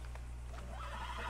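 A Tennessee Walker horse in the game Red Dead Redemption 2 gives a short, faint neigh over a low steady hum, with no talk.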